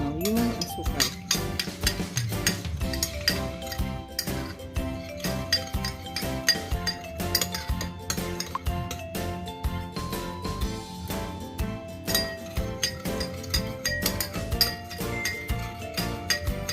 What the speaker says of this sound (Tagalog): Haluin hanggang matunaw yung asukal.